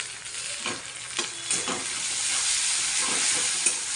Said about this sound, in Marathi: आता कांदा बघा लाल झालाय आता टोमॅटो टाकू